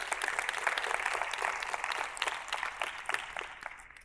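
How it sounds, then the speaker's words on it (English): An audience applauds for the author's mother at a book signing, a steady wash of clapping hands that holds evenly for several seconds with a few sharper claps standing out. "There's my mother, please give her a round of applause"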